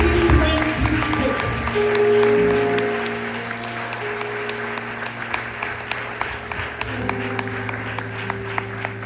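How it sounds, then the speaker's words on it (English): A room at an award ceremony applauds the women of excellence, full clapping at first that fades to scattered claps over sustained musical tones underneath. "let us sound a big applause in this room for the 12 women of excellence of the year 2026"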